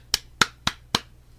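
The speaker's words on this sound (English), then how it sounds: "Some clapping." A few slow, separate claps, four sharp hand strikes spaced evenly and fairly close, with a faint low hum underneath and no voices.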